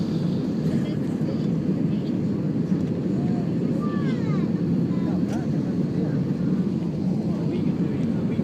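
A steady, loud broadband roar of an airliner cabin during the descent into Barcelona airport fills the whole stretch without a break.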